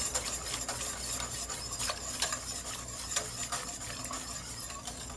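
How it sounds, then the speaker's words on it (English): A whisk working butter into cream of tomato soup in a pot, a quiet steady swishing with light rhythmic clicks of metal against the pan, close and without talk. "we'll get a whisk, and we'll just whisk it all in"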